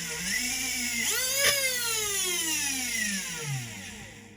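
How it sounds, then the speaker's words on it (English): A Dremel rotary tool grinds down a small plastic section of a Stryfe foam-dart blaster, its high whine sweeping in pitch as the bit loads and unloads, loud and continuous with no talking. "you have to Dremel down the little section right there"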